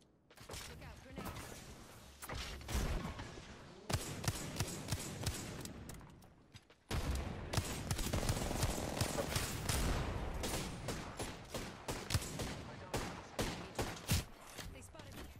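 Rapid bursts of automatic weapon fire from the Apex Legends shooter game, dense sharp volleys repeating throughout with brief lulls, loud and close, with a voice speaking over parts of it.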